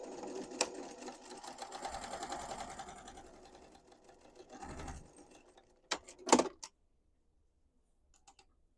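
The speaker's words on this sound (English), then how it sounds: "we're going to stitch that with a 1/4 inch seam allowance" A sewing machine stitches a quarter-inch fabric seam for a small travel tissue holder, whirring in a steady run of rapid needle clatter for several seconds before a few short bursts and clicks, then silence.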